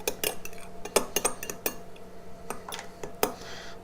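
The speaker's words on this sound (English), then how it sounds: "And give this a stir" A spoon stirs white balsamic vinegar for an Italian dressing in a bowl, giving a string of sharp metallic clinks and taps against the sides at an uneven pace, close and fairly quiet.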